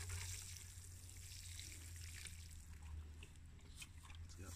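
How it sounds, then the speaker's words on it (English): A newly planted tree is watered in lightly outdoors, giving a soft, steady trickle of water over a constant low hum and faint background noise. "I'll just water it in very lightly."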